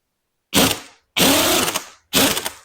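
A bearing puller works an MGA differential bearing off in three sharp bursts of grinding, ratcheting mechanical noise, each loud and close, with brief silent pauses between them.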